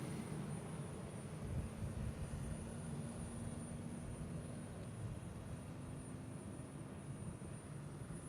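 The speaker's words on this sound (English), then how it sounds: "Liquid oxygen tanker passing by." A liquid oxygen tanker truck rumbling past at the SpaceX Starbase site in Boca Chica, Texas, a low, steady, fairly distant engine drone with a broad roar that holds throughout and no voices.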